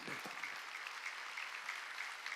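A church congregation claps through a Wednesday worship service, a faint, steady wash of applause that holds evenly from start to finish.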